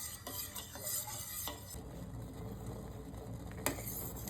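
Homemade sharbat syrup simmering in a pot on a stove, a steady low bubbling and hiss with faint utensil scrapes and a sharp knock near the end, close and continuous with no talking.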